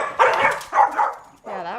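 A dog gives a few short barks and yips close by, three quick bursts with brief gaps between them.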